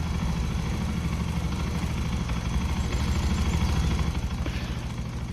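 In Farming Simulator 25, an old early-1980s tractor engine runs steadily, a loud, constant low rumble that sounds close and carries no voices.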